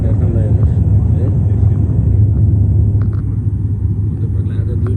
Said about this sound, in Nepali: ल्यान्ड गर्नलाई पुरा तयारीमा छ प्लेन